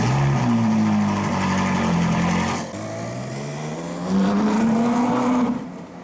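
Ferrari 458 Italia with its naturally aspirated V8, loud and close, the engine note rising and falling through revs, dipping briefly mid-way then climbing again in a strong sweeping howl, with no talking.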